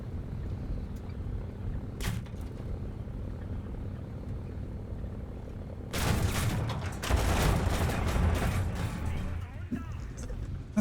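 Aircraft gunfire in a War Thunder simulator air battle with FW190 and BF109 fighters: a steady engine drone, then a sudden dense rattle of cannon and machine-gun fire about midway that lasts several seconds.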